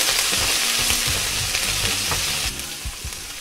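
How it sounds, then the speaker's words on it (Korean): Minced garlic, ginger, scallion and Vietnamese chili sizzle and fry in hot oil, a close, continuous crackle with the sound of stirring. "다진 마늘하고 다진 생강을 넣겠습니다. 그래서 기름을 내야죠."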